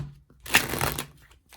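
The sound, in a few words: tarot oracle cards being shuffled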